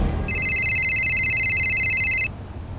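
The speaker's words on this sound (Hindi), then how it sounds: "देखो तो किसका फोन है?" An electronic telephone rings in a single unbroken burst of about two seconds, clear and fairly close, then cuts off into quiet room tone.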